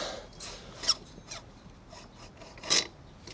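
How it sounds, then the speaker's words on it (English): A Honda CB125F motorcycle wheel axle being drawn out of the hub, making scraping, rasping metal-on-metal rubs with a couple of louder squeaky peaks; close and moderately quiet, no voices. "Now we can remove our axle."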